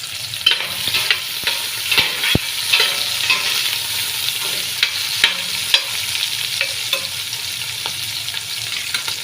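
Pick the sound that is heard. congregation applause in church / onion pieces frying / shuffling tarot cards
onion pieces frying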